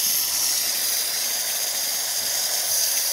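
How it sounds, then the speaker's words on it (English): Continuous loud, bright hiss of a Quick Mill Vetrano espresso machine's steam wand blowing steadily without pause. "Nice strong steam."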